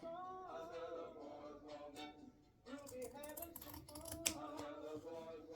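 Scissors trim back embroidery material for an in-the-hoop Halloween pumpkin banner, soft close snips and crisp cuts in a loose run, with a voice talking over them.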